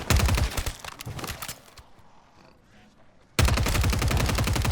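Rapid automatic gunfire from a weapon in Modern Warfare 3 Zombies, loud and close in sustained bursts, cut by a short near-silent pause before firing resumes abruptly at full volume.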